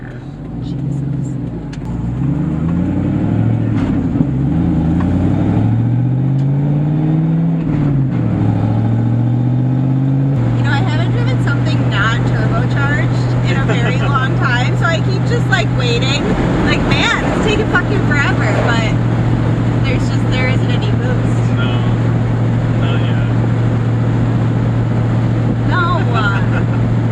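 A loud truck engine rumbles steadily nearby, with a rising and falling rev early on, then settles into a sustained heavy drone, while voices are faintly heard around it.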